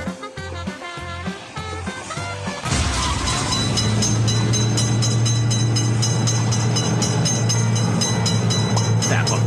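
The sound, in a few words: train passing railroad crossing in a train simulator video game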